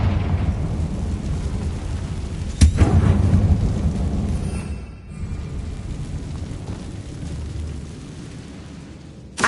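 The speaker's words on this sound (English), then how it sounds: "Confringo!" Confringo fire spell exploding in Hogwarts Legacy: a sudden loud burst with a roaring, rumbling tail that fades over a few seconds amid steady game ambience, then a smaller pop at the end.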